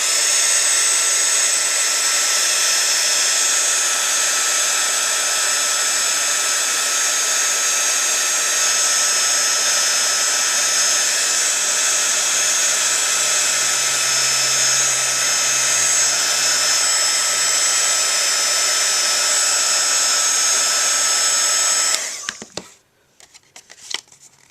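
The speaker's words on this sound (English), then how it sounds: "And bring my heat gun in." A heat gun runs steadily, loud and close, melting embossing powder on a small handmade baby shower card, then cuts off abruptly near the end.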